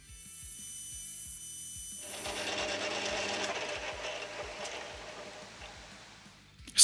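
A drill boring a deep hole through a metal die holder handle, giving a rising grinding, rasping whir over a steady repeating mechanical ticking, ending in a short loud burst.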